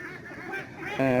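Domestic ducks on a combined duck and native catfish pond farm give a short, loud burst of quacking near the end, following a stretch of murky ambient noise.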